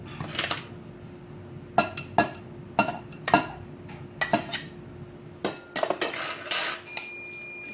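A utensil clinks and scrapes against a bowl while noodles are mixed into stuffed bell pepper filling, a series of sharp, separate taps and knocks with quiet pauses between them, close and fairly soft.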